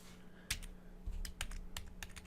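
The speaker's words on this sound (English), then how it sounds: "So we'll just type it out, I guess." Someone types code on a computer keyboard, with a steady run of close, crisp key clicks in uneven bursts and short pauses over a faint hum.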